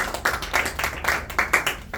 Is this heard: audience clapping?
yes